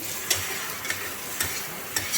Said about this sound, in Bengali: কাঁচা লঙ্কা আর টমেটো কোচানো এগুলো দিয়ে দিলাম এইগুলো দিয়ে সব একসাথে আবার নেড়ে নিচ্ছি